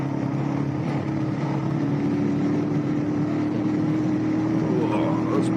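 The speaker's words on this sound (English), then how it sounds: "I love the noise this bike makes. So these sorts of speeds, sort of mid and low revs for it." Motorbike engine running steadily at mid and low revs while riding along a road, a continuous close throaty drone with an even pitch and a faint rasp, no talk over it.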